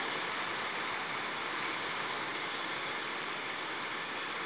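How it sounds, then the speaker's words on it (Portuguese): Steady, even rain falling at night in Poços de Caldas, Minas Gerais, during a very heavy storm, a continuous broadband hiss with no breaks and no voices over it. "chuva caindo"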